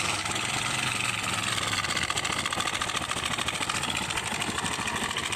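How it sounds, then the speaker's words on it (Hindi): A TVS Star City motorcycle engine idles with a bad knocking rattle, a steady close mechanical clatter running evenly throughout with no voices. "इसके इंजन से बहुत ही बुरी खटर पटर की आवाज़ आ रही है।"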